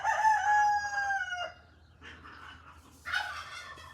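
A rooster crows among chickens in the morning, a clear drawn-out call followed by a quieter second crow, moderately near with soft clucking around it.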